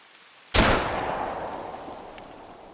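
A single loud rifle shot in the hunting game theHunter: Call of the Wild, a sharp crack followed by a long echoing decay in an open landscape, with a faint click afterward.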